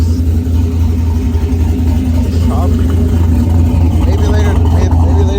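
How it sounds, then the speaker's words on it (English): A brand-new pickup truck idles with a steady low engine drone close by, continuous for several seconds while voices talk faintly over the top. "Truck is still running good without the tune."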